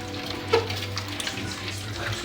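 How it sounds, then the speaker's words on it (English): Water runs steadily from a tap into a pot holding red beans and ham bones for Louisiana red beans and rice, a soft continuous splashing with no talking. "I'm going to add a little bit more water"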